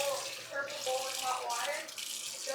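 Tap water runs steadily into a pot for boiling potatoes, a close, continuous splashing flow with a rising fill tone and no talk.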